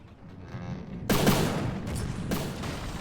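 Broadside cannons on a frigate in the naval combat game From the Depths fire in a sustained rumbling barrage, with three heavy broadband bursts landing over a continuous low roar of battle.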